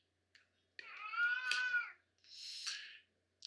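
A house cat meows indoors near a computer setup: two drawn-out, fairly close meows with a short gap between them, heard alone without talk.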